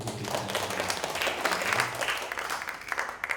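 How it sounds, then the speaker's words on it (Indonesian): A roomful of people at a school discussion session claps steadily, a dense, moderately close burst of applause that stays even throughout. "Sekali lagi tepuk tangan untuk"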